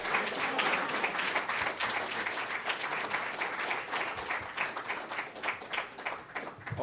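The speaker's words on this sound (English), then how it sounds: "help me bring on this strong soldier, Brother Randy Muhammad, with a warm round of applause" An audience at a Nation of Islam gathering gives a warm round of applause, sustained dense clapping from many people that rolls on evenly and loud without a break.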